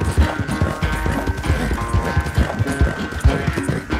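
Horse hooves clip-clop at a quick, steady rhythm on a trail in the video game Red Dead Redemption 2, close and fairly loud with no talk.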